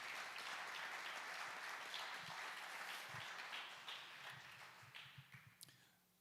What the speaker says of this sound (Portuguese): Pode dar uma forte salva de palmas ao Senhor.